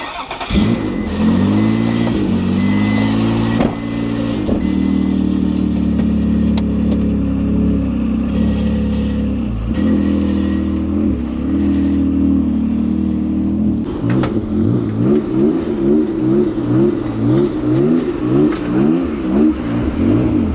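A twin-turbo Acura NSX engine cranks and then revs steadily, loud and close, with the engine note rising and falling in repeated pulses toward the end.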